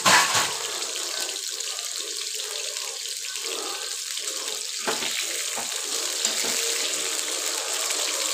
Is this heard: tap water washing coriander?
yes